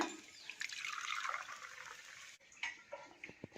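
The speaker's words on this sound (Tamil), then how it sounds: "நான் வந்து தண்ணி ஊற வச்ச தண்ணியை தான் ஆட் பண்ண போகிறேன், அரிசி ஊற வச்ச தண்ணியை" Rice-soaking water poured from a vessel onto roasted rice in a pan while making pongal, a steady close splashing pour for about two seconds, then a few softer drips and small splashes.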